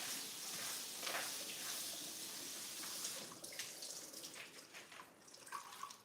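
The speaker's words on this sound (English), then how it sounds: "So now we're gonna wash our cabbage too." Tap water runs steadily into a sink while cabbage is washed, a faint, even hiss with small splashes and clinks near the end.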